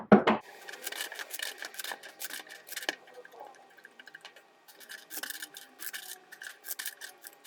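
Crisp papery riffling and soft snapping come in repeated bursts, tarot cards being shuffled close by with short pauses between rounds, no talking.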